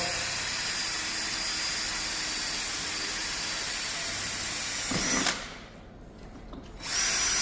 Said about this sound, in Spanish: Vale, vamos a taladrarlo.